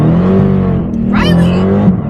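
A 700 horsepower rear-wheel-drive car on summer tires accelerates through heavy snow, its engine droning loud and steady throughout, with a brief hissing rush partway through.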